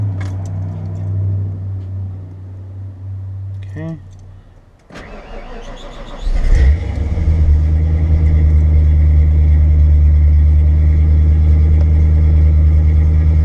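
A car engine with freshly serviced spark plugs cranks, catches and settles into a loud, steady idle, with a brief spoken word just before it starts.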